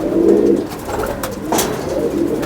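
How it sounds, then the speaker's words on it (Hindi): A pigeon coos up close in soft, throaty bursts, with a brief fluttery rustle in the middle. "और बड़ा प्यारा कबूतर जो।"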